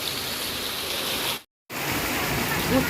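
Continuous loud rush of flowing rainwater, dense and steady, briefly cut by a short gap of silence.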